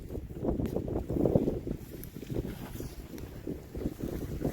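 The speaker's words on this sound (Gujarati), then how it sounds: "પવન બહુ આવે છે" Gusty wind buffeting the microphone in low rumbling surges, steady and fairly loud with no voices.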